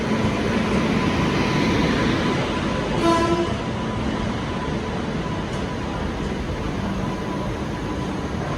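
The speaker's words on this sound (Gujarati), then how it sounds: "ટ્રેન આવી ગઈ છે ભાઈ" A train rumbles steadily nearby, with rail noise and a brief horn-like tone partway through, no voices.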